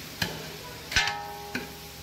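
Mutton masala with browned onion, tomato and whole spices is stirred in a pan, giving three distinct scraping clatters of a spoon against the metal over a low, steady sizzle.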